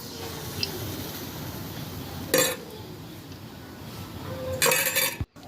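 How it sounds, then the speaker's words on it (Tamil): A kadai is set on a home kitchen stove for a masala karamani dish, giving two sharp metallic clinks a couple of seconds apart over a low, steady room hiss. "ஒரு கடாய் வச்சு அதில் எண்ணெய் கொஞ்சம் விட்டுக்கலாம்."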